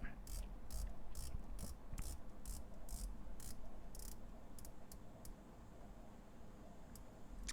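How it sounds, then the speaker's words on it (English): Rotating bezel of a San Martin SN004 dive watch clicking close up, a quick rhythmic run of crisp ratchet clicks that slows to a few scattered clicks, over a faint hum. "there's the crispness of the sound of the bezel."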